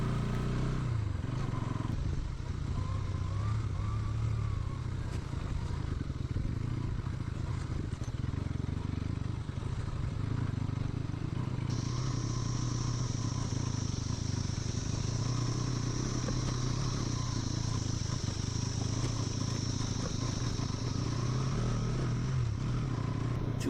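A Bajaj Pulsar sports motorcycle rides over a badly broken road in Sikkim, its engine droning steadily while the bike clatters and rattles over the rough surface, with wind noise throughout.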